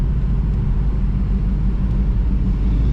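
A Chevrolet Nova's engine rumbles steadily at close range while the car drives along, a continuous deep low-end drone with no voices over it.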